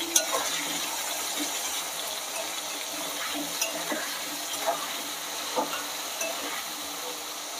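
Potato pieces fry in a hot pan with salt and turmeric, an early step in a Bengali banana-flower curry. A steady, moderate sizzle runs throughout with occasional stirring scrapes and light spatters, and no one speaks.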